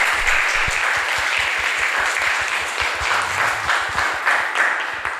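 A church congregation claps together to welcome visiting guests during a Sunday service, a steady, moderately loud round of applause with faint low thumps underneath, lasting several seconds.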